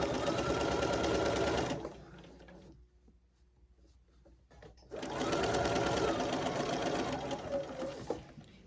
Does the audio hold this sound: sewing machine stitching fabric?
yes